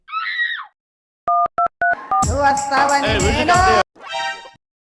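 A voice at the start, then a short series of telephone keypad beeps, followed by a ringing tone and a voice afterward.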